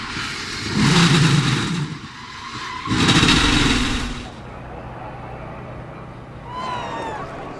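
A NASCAR truck at Talladega spins out, tires skidding in two loud, broad screeching bursts with engine roar, then quieter track noise and a faint rising engine whine.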